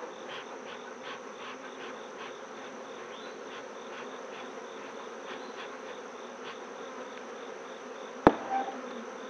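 Steady dense drone of honeybees swarming in an opened beehive, a continuous buzzing hum with individual bees flying close by and a sharp click near the end.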